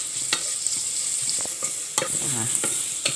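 Onions frying in a pan until crispy give a steady bright sizzle, with a spatula scraping and stirring through them in a few distinct strokes, close and alone without talk.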